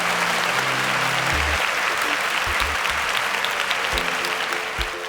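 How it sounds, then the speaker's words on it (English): A studio audience at a competition show breaks into a steady, loud round of applause for eliminated contestants, dense clapping that holds throughout and fades slightly at the end. "Can we give them a resounding round of applause?"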